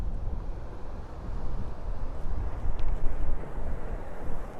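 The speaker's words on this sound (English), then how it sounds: "That's how windy it is here." Steady low roar of wind buffeting the microphone on a beach at Saranda, Albania, loud and continuous with gusts swelling near the middle.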